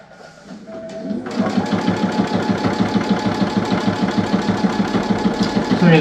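A sewing machine stitches binding onto a Valentine's quilt wall hanging, starting after a brief quiet lead-in and then running steadily with a fast, even mechanical rhythm, close and loud, no talking.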